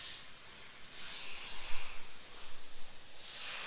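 Sagola XTECH 200 airbrush spraying, a steady soft airy hiss of compressed air and paint that swells and eases across a few seconds, with no voices.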